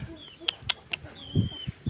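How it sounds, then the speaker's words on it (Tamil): Backyard chickens kept at a home cluck in a few short, sharp calls with some low thumps between them, fairly close and with no talking. "வீட்டில் கோழி வளர்க்குறோம்"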